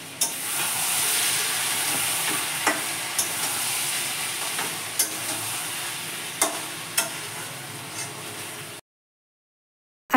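Meat browning with spices and onions in a pan, a continuous hissing fry punctuated by sharp ladle taps and scrapes every second or so, close, then cutting to silence near the end.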